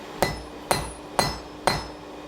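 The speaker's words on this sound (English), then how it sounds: "So what we're going to do here is forge a point on your metal" A blacksmith hammers a point onto a nail on an anvil, with four evenly spaced, ringing metallic strikes about half a second apart, each one loud and close with a short decaying ring.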